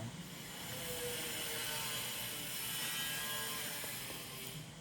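A neighbour's angle grinder runs steadily at a distance, a continuous harsh whine with a broad noisy hiss, heard alone without speech.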